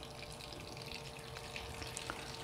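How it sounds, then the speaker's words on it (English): Water from a refrigerator dispenser filling the tank of a Rancilio Silvia espresso machine, a faint steady trickle with small splashes, quiet and continuous with no talking. "I'm just gonna get some water from my refrigerator here. I'm gonna fill it up."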